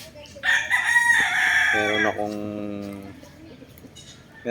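A bull stag gamecock crows nearby, one loud drawn-out cock-a-doodle-doo that falls into a lower harmonic tail. A few soft clucks and faint background sounds follow.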